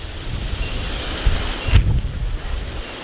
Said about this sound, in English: That was probably a gust of at least 30 plus miles,